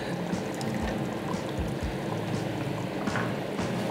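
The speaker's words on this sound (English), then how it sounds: "now we're gonna add the lime juice straight to the pot" Lime juice pours straight into a pot of Texas chili, giving a steady wet splashing and bubbling wash that runs unbroken through the whole stretch, close and fairly loud with no talking.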